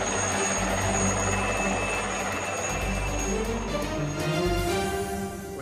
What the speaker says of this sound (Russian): Итак, два вертолета в воздухе, двигатели.